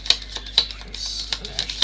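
Tarot cards being shuffled in short riffling bursts, a series of crisp papery flutters repeating at close range with brief pauses between them.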